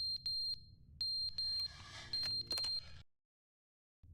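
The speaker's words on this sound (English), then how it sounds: "fire alarm battery's dying." Smoke alarm with a dying battery in The Stanley Parable video game: a series of short, high-pitched beeps in irregular bursts with a brief electronic chirp, clear and alone, then a moment of silence.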